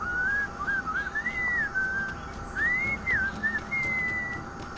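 A melodic whistled tune in the Sam and Max video game, clear and continuous with rising and falling phrases over a faint background hum, no speech.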